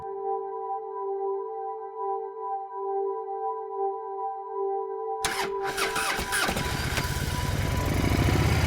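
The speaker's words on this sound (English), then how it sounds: "turn on your neighbor's quad runner and let it warm up" A neighbor's quad bike engine kicks on partway through and keeps running as it warms up, a loud, rough, steady motor drone close by that follows several seconds of quiet humming.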